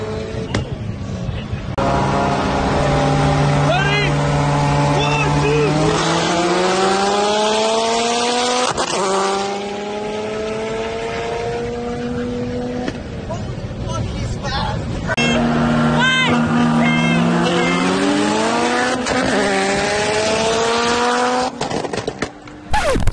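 An 809 hp all-wheel-drive Mazdaspeed 6 accelerates hard, its engine note rising loudly through gear after gear with brief breaks at each shift, close and dominant with faint tire noise.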